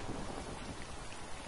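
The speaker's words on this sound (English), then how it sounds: "Yes, rain falling down in here." Rain and thunder in the Minecraft Adventurecraft video game make a dense, steady downpour hiss with a low rumble beneath it. The sound is constant and even, with no talking.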